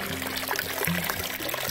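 Clear spring water flowing at the source of the Mogi Guaçu river, a steady close trickling and pouring wash, with no voices heard.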